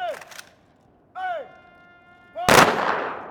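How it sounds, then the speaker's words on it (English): Shots of a gun salute ring out at a memorial service in a park, one sharp, loud crack near the end following fading tonal sounds. "And the shots rang through his park."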